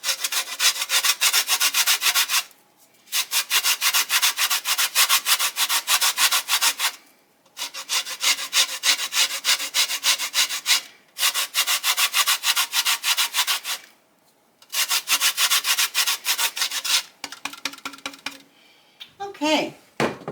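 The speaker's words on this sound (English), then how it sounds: "the next thing I'm going to do is just zest a bit of lemon in here." A lemon is zested on a metal grater in a kitchen, rapid rasping scrapes in five bursts of two to three seconds each, separated by short pauses, close and crisp, ending with light clinks.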